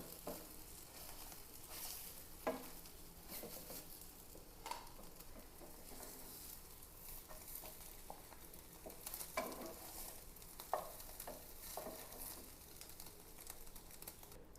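Eggs fry in a pan with a faint, steady sizzle, broken by occasional sharper spits and utensil scrapes while being stirred. Birds coo softly in the background.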